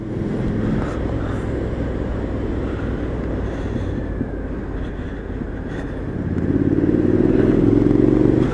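Riding a 2017 Triumph Street Scrambler produces a steady, loud engine drone with wind roar that swells into a stronger rising rev near the end, with no talk over it.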